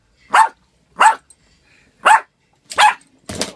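A dog barks at a television, giving five sharp, loud barks spaced roughly evenly apart, close by and with no talk over them.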